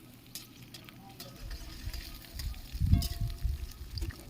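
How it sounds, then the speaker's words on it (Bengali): Chopped onion and garlic paste fry with spices in a pan, a soft sizzle with stirring scrapes that grow louder partway through, heard close and without talk. "এরপর সামান্য পেঁয়াজ কুচি আর রসুন বাটা দিয়ে ভালো করে ভেজে নিতে হবে মশলাটি।"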